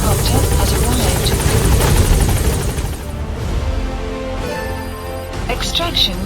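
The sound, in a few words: support helicopter arriving, from the video game Metal Gear Solid V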